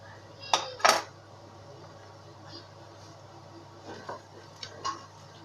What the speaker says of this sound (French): je suis en train de couper un peu d'oignon